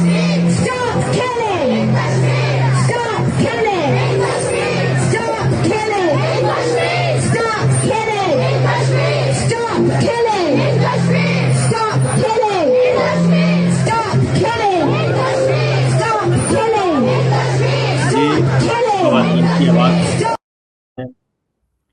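A large crowd of women chants slogans at a Kashmir protest in London, with dense, overlapping voices, shouts and whoops rising and falling steadily for about twenty seconds before cutting off abruptly.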